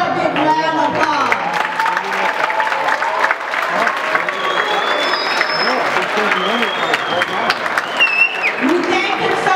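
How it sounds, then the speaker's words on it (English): An audience at a high school presentation breaks into sustained clapping and cheering, a dense wash of applause in a hall with scattered whoops and a voice speaking over it. "could everybody give Mr. Porter a big round of applause"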